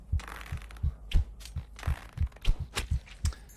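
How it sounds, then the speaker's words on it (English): A heartbeat in the VR archery game In Death: Unchained: steady low double thumps repeat at a regular, slightly quick pace, close and prominent, with faint game noise between the beats. "you're going to have to put up with a heartbeat now"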